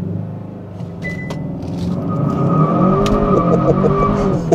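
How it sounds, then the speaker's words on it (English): A 2022 Kia K5 GT does a launch-control burnout in Sport Plus mode. The engine revs loudly as the tires squeal and screech, growing louder and more sustained over several seconds. "Let's do a launch control here."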